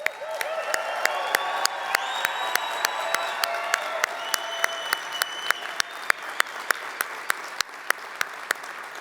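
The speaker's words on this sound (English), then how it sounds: "let's give him one more round of applause" Audience applause with some cheering at a hall of fame conference ceremony, a dense steady wash of clapping with occasional sharp claps and a few whoops, sustained throughout at moderate loudness.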